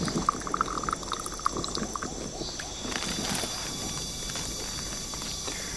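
Water pours and trickles from a freshly cut section of water vine, a close, irregular splashing stream with faint dripping and soft outdoor background sounds.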